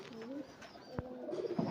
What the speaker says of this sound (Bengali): বাজের সাথে লড়াই করা কবিতর।